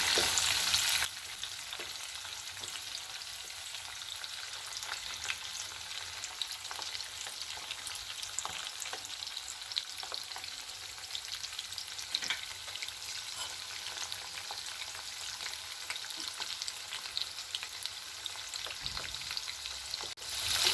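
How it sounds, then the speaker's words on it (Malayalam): Eggs fry in a pan over a full gas flame for an egg chilli dish, giving a steady, close hiss and crackle that runs unbroken for the whole stretch, with no voices over it. "ഗ്യാസ് ഫുള്ളി വെച്ച് 2 മിനിറ്റ് ഇത് എളുപ്പം ഫ്രൈ ചെയ്തെടുക്കാം"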